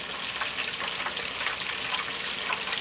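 Mozzarella and Brie cheese pieces frying in hot oil, a steady close hiss of bubbling with faint scattered pops, continuous and unbroken.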